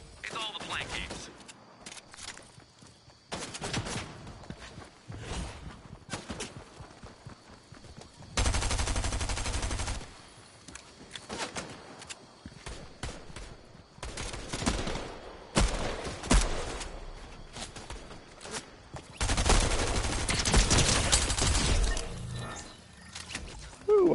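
Automatic gunfire from the Fortnite video game in several loud, dense bursts a few seconds long, separated by quieter stretches of game sound.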